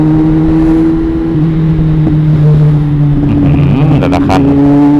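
A Kawasaki Z800 motorcycle rides slowly through congested traffic at around 70 km/h, its steady engine drone loud and close, pitch shifting near the end, with a voice speaking over it.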